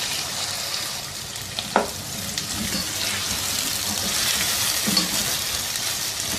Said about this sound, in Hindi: इस प्याज को 2-3 मिनट पकाएंगे ऐसे ही हिलाते हुए